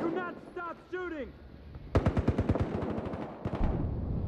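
Rapid automatic gunfire from Battlefield Hardline's heist mode, a fast string of loud close shots followed by another burst, preceded by chirpy radio-like voices and game chatter.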